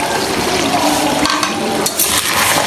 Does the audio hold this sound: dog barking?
no